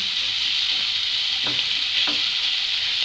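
Chicken and onion sauté in a pan for momo filling. A steady, loud sizzle runs throughout, and two short scrapes of a spatula stirring the pan break through it.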